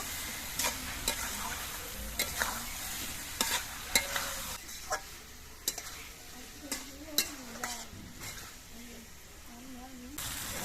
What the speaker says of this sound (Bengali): এবার এই আলু দিয়ে মশলা দিয়ে আরও কিছুক্ষণ কষিয়ে নেব